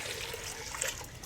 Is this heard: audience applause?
no